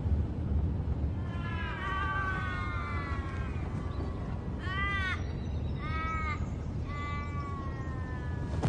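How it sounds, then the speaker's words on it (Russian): Australian raven calling outdoors with several drawn-out, nasal caws in short bursts over a steady background hiss, moderately close and clear. "Ворона. Австралийская ворона."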